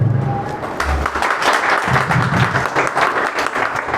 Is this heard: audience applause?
yes